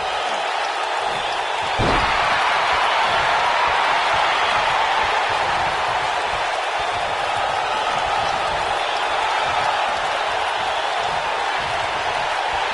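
A video game wrestling arena crowd in WWE 2K19 roars and applauds in a continuous, dense wash of noise, with a sharp slam near the start and commentary talk blended in.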